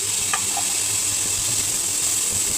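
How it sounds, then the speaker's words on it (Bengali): Shrimp frying in hot oil with whole garlic, onion, green chilli and dried chilli, a steady close hiss of sizzling with a faint clink of a utensil near the start. "চিংড়ি মাছটা ভাজা হবে"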